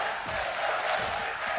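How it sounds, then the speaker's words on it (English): Esports arena crowd roaring and cheering during a VALORANT Masters Copenhagen match between OpTic Gaming and Paper Rex, a dense, sustained wash of voices from a large audience throughout. "The crowd feeling it."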